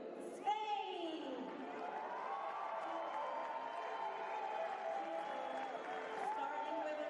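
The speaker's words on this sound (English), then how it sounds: "Let's give a round of applause to" An audience at a FIBA U17 Women's Basketball World Cup game applauds and cheers for team Spain, with steady crowd clapping and whoops filling the arena under an announcer's amplified voice.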